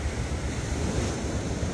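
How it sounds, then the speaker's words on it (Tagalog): Continuous roar of ocean waves close by, mixed with buffeting wind against the microphone, loud and unbroken. "Nalaki na naman ang alon."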